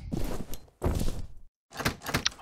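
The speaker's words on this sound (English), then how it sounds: "Oh great, that door is locked." A locked door being tried in the video game F.E.A.R., heard as two solid rattling thunks of the handle and door against its frame, a short silence, then more rattling clatter.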